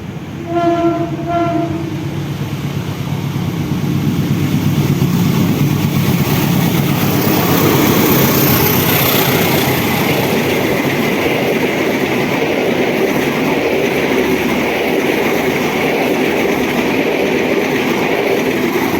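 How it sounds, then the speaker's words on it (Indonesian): KA Logawa passenger train hauled by a locomotive passes close by on the line near Surabaya, opening with a short horn blast and followed by a loud, sustained rumble of wheels and carriages with no talk. "KA Logawa baru saja melintas ya menuju tujuan akhir stasiun Jember via Surabaya Gubeng"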